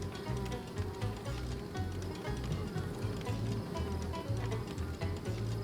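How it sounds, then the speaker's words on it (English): Bees buzz in the Deponia Doomsday game, a faint continuous droning hum with a pulsing low rhythm that runs steadily throughout without speech. "The bees have obviously been busy."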